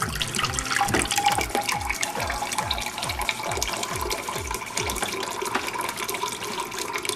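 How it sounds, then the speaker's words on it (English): Water pours steadily from a tap into a cup, its pitch rising as it fills, a continuous splashing stream close by. "We're gonna put 6 cups of water, so you'll fill that one up 3 times."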